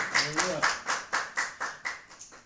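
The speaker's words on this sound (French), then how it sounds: "Nous applaudissons Jésus-Christ bien fort. Plus fort, plus fort." Rhythmic clapping from a church congregation, about ten steady claps at an even pace, with a voice shouting over the start.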